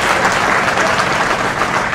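Loud, steady applause from a crowd at a political speech, continuous clapping filling the whole moment without pause.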